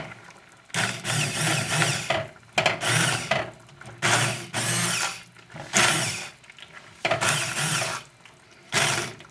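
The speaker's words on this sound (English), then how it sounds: "We're going to puree it now." A blender purees a pot of simmered chicken curry sauce in several loud whirring bursts, each a second or two long, separated by brief pauses, with no talking.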